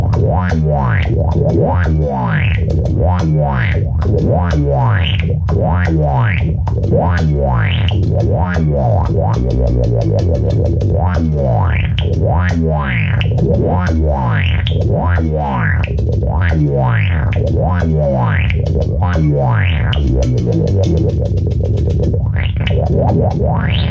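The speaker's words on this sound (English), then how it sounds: "that's a reverse crybaby with some synth, a little bit of distortion, compression" A whamola twanging through a reverse crybaby, synth, distortion and compression, each note bending and sweeping in repeated wah-like swoops over a thick, steady drone; loud and continuous, no talking.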